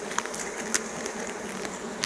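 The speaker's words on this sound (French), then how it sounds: "Nos petites abeilles." Honeybees buzz steadily at a hive crate holding a newly introduced mated queen, a close, continuous drone with a few individual bees whizzing past the microphone.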